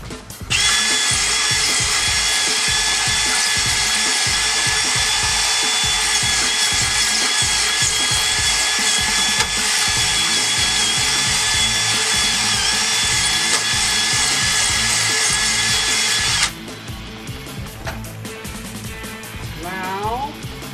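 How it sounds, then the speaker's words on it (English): A power drill bores out screw holes for a Pentair IntelliCenter upgrade kit, running as one loud, steady whine for about sixteen seconds before it stops and quieter handling noises follow. "So I just need to auger them out a little bit."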